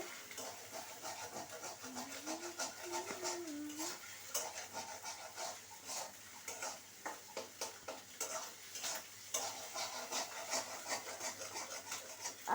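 Eggs with chopped onion, chili and a little salt being stirred in a pan, with a steady series of scraping, rubbing strokes from a spatula over a soft frying sizzle and a brief faint voice.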